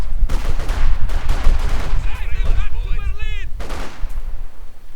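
Loud rapid gunfire bursts from grenadier infantry in the Company of Heroes 2 battle game, repeated sharp cracks with whistling effects, under a commentator's voice.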